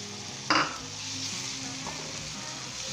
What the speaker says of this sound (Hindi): एक से 2 मिनट तक हम इसे अच्छे तरीके से भूनेंगे